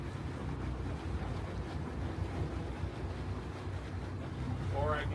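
Boat engines rumble low and steady while a boat is manoeuvred toward a dock, under wind and water noise, with a faint rising whine near the end.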